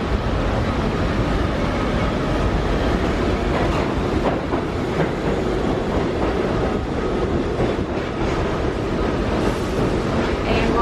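A subway train rolls past close by at Grand Central station in New York, a steady loud rumble with rhythmic clickety-clack of wheels on track throughout.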